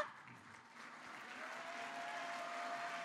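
A crowd at a company recognition event claps to congratulate new Silver-rank members. The applause is faint and distant, forms a continuous rustling wash that swells slightly toward the end, and has a faint tone running through it.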